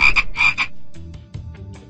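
A frog croaks in a quick pair of loud, buzzy bursts in a Paw Patrol children's video game, followed by softer scattered clicks and thumps trailing off.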